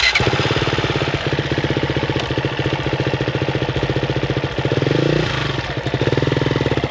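Four-stroke motocross motorcycle engine revving and pulling close by, a loud rapid pulsing thump that swells briefly under acceleration and then settles back to a steady chug.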